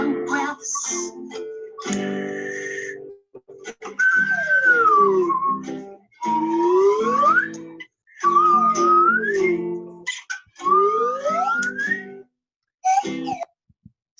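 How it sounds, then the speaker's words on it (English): A whistle is blown in a music therapy session, in several long sustained tones that bend up and down, each lasting a couple of seconds with short pauses between them. "Let's play the whistle some more. Can you blow it now?"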